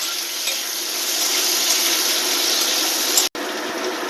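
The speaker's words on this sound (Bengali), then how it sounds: "এবার পেঁপের টুকরোগুলো দিয়ে দেবো, দিয়ে একটু নাড়াচাড়া করবো।" Papaya pieces hit a hot pan of oil with bay leaves and are stirred, giving a loud steady sizzling hiss that holds level, then breaks off abruptly for a moment before resuming.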